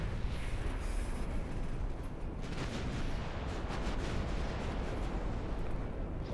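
Naval artillery from warships in the game Ultimate Admiral Dreadnoughts, a continuous rumbling barrage of distant booming shots and explosions layered over one another without pause.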